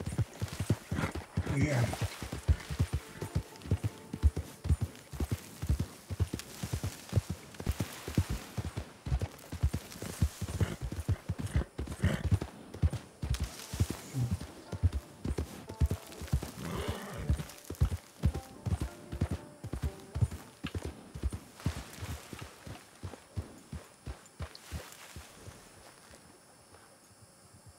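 Horse hooves clip-clop steadily in Red Dead 2, a long run of regular, fairly loud hoofbeats with light wind and an occasional whinny, while someone talks over them now and then.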